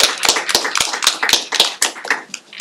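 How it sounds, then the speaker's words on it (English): Applause at a New York City Housing Authority board meeting: a small group claps in sharp, irregular bursts, close and fairly light, with no talking. "I think she gets a round of applause as well."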